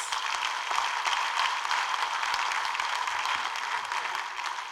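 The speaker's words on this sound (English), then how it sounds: "I think he deserves another round of applause." Applause from a surveyors' institution conference audience for their president, a continuous even wash of clapping at moderate level with no speech over it.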